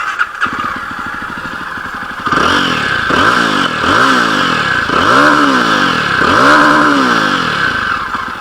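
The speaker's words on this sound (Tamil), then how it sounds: "ஸோ வண்டியோட எக்ஸாஸ்ட் நோட் வந்து கேட்கலாம்." A Jawa Perak BS6 motorcycle idles with a thumping exhaust, then is revved in a series of five rising and falling blips, loud and close.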